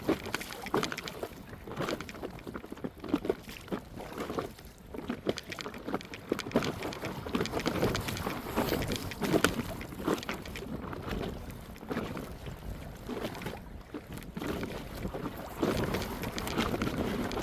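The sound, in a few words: strong wind on a lake while out on a boat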